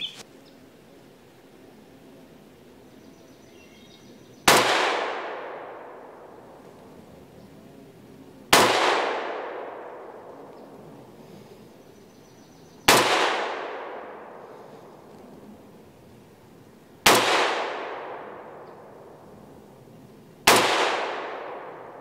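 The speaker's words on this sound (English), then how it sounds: "once I start shooting. And this is on a 300 blackout" Six single shots from a 300 Blackout rifle, sharp loud cracks spaced about four seconds apart, each trailing into a short decaying ring with quiet room tone between.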